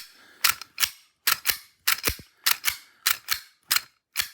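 The slide of a Tokyo Marui Glock Gen4 airsoft pistol, still binding at the barrel lock, is racked by hand about six times in a quick, even rhythm, each rack a sharp pair of close metallic clacks.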